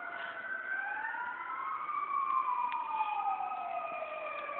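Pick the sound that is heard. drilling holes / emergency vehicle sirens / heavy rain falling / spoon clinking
emergency vehicle sirens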